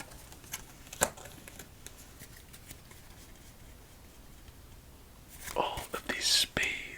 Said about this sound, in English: Let's get on to our victory shuffle